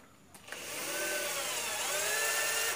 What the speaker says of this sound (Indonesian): Kita pakai bor cun,